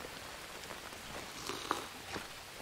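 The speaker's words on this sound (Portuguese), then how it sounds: "vou aproveitar que tá chovendo só um pouquinho" Light rain falls in the video game Green Hell as a soft, steady patter with scattered faint drops, quiet and even throughout.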